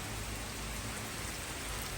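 Rain falling in Italy during hot weather, a dense, even hiss of drops pattering on surfaces, steady and soft with no voices.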